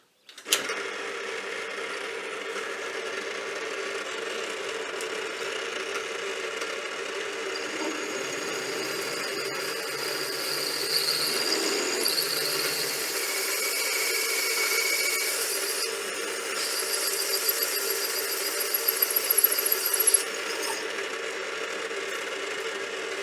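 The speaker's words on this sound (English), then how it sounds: "I've got a piece of aluminium in here that I'm going to try and turn the cap" An aluminium cap being turned on a metal lathe, a steady mechanical whir and hum running throughout with cutting noise that grows brighter and louder toward the end, no talking.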